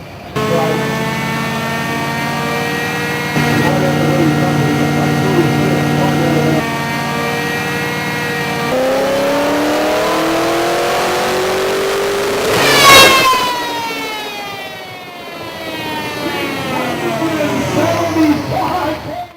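A high-powered car engine revs through a dyno horsepower run, rising and falling pitch sweeps with one sharp peak near the middle, loud and continuous, with voices talking over parts of it.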